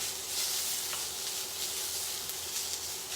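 Japanese noodles and vegetables being stir-fried in a pan give a steady, close sizzle with a faint scrape or two, continuous throughout with no talking.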